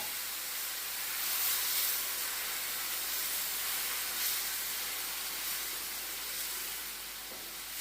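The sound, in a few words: soup boiling in a pot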